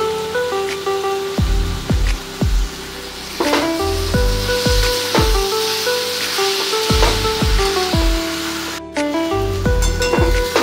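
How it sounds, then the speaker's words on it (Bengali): Jute leaves and vegetables with green chillies frying in a pan, a loud steady sizzle and crackle close up, broken by repeated sharp metallic spatula knocks against the pan at irregular intervals, no talking. "দিয়ে আবারও কিছুক্ষণের জন্য ভেজে নেব"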